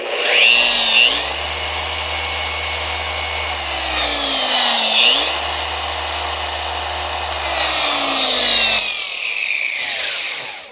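Rupes random-orbital polisher fitted with its usual pad on a custom homemade backing plate, running loud and steady with a high whine that winds up, dips and rises again, then cuts off near the end.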